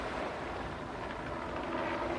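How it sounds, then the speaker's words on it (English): A helicopter flies over a sailing race, giving a steady, fairly distant whirring engine and rotor drone with broadband wind-like noise and no talk. "Just looking at our chopper there."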